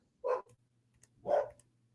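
Two separate barks from a dog ring out about a second apart. They are fairly close but not loud, against a quiet background with a faint low hum.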